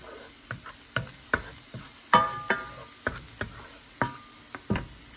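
Garlic fries until browned in a pan, with a light sizzle under repeated sharp clinks and scrapes of a utensil stirring at a steady, uneven rhythm.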